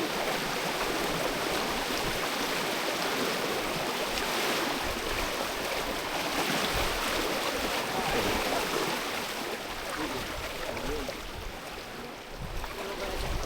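A strongly flowing river rushes in a steady, loud wash of water, continuous and close, with no clear breaks.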